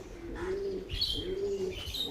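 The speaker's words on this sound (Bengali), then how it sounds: "গিরিবাজ পায়রা বেশি আছে, হাই ফ্লাইং গিরিবাজ পায়রা" Giribaz high-flying pigeons in a loft coo in low rolling phrases that repeat, with a few brighter chirps over them, near and steady, and no one talking.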